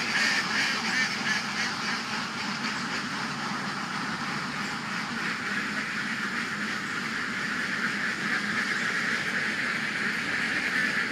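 Herded free-range ducks at an egg-laying farm, a dense, continuous chorus of honking quacks from many birds, fairly loud and steady throughout with no talking.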